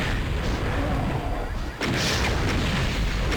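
Rocket explosions slam into the Icon of Sin boss in Doom II, a dense, continuous roar of booming blasts with a brief dip in the middle before the barrage resumes loud and close.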